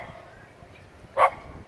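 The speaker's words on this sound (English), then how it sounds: "Always in the Philippines, you got dogs." A single sharp dog bark rings out on a Philippine side street, brief and fairly close over a low background murmur.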